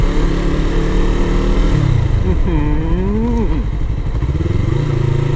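A motorcycle rides into a Thai temple, its engine loud and close throughout with a rising and falling rev in the middle and a steady rumble around it.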